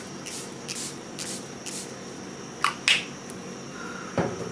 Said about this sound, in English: I'm just gonna add a layer of extra setting spray.